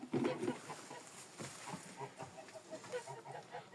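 An older farmyard hen clucks close by in short, uneven bursts, with a louder run of clucks at the start and softer ones after.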